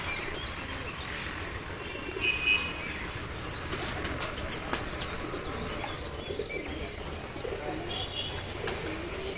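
Pet pigeons beat their wings in short, irregular bursts of flapping while being handled up close, with soft cooing and a few chirps underneath and no talking.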